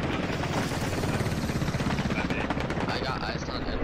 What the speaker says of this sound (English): Dishka gauging Phoenix's helicopter directly